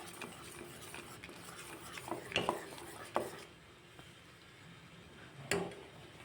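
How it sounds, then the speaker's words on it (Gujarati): A utensil stirring raw mango pieces in a pan over a medium gas flame, with irregular scraping and clinking strokes, a few sharper knocks against the pan, close and fairly quiet. "આપણે કેરીને સતત આપણે હલાવવાનું છે મીડિયમ ગેસ ઉપર આપણે આ કાચી કેરીનું કરવાનું છે"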